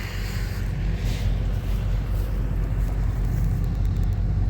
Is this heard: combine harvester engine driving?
yes